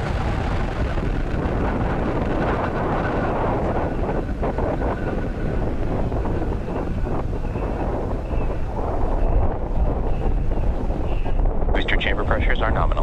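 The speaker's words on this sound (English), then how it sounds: "Engine full power. And liftoff of USSF-67." A SpaceX Falcon Heavy rocket lifts off, heard as a sustained, dense broadband roar mixed with heavy wind buffeting on the microphone, continuous and loud for the whole stretch.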